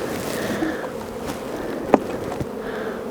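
Honeybees buzz in a dense, continuous drone around their hives on a sunny spring day in the Outaouais, steady and close throughout, with one brief sharp knock partway through.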